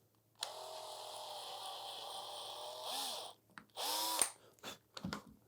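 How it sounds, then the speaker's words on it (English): A power drill bores a shallow hole into a sword prop, whining steadily and close for a few seconds, then pausing and starting again in shorter bursts. "I'm going to drill a shallow hole here."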